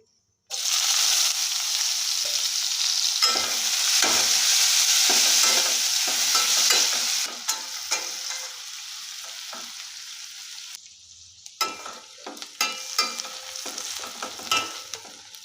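Chopped onion with cumin, dried red chilli and bay leaf sizzles loudly in hot oil, with repeated scraping stirs; the hiss eases a little partway through as stirring continues in bursts, no voices.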